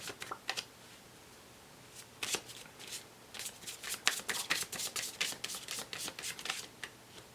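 A deck of Law of Attraction cards being shuffled, a quiet run of crisp riffling bursts and soft card slaps that grows busier toward the end, close and alone with no talking.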